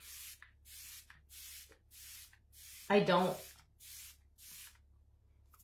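Makeup setting spray mists out in a series of short, soft hissing bursts at a regular rhythm, close to the microphone, with a brief spoken interjection partway through.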